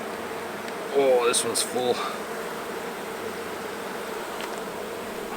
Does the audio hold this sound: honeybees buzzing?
yes